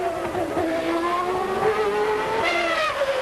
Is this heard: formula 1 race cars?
yes